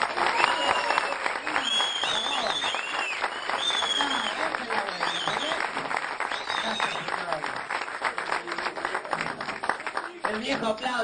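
A large audience claps and cheers steadily and loudly, a dense wash of applause with voices shouting and whooping throughout and a brief dip near the end.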